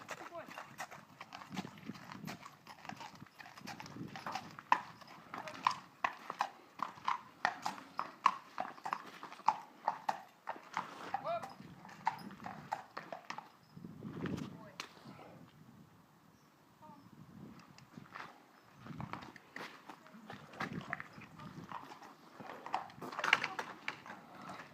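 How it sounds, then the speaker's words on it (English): Stallion's unshod hooves clip-clop in an irregular walking rhythm close by, under someone talking almost throughout. "this horse, as you can see, is a stallion horse."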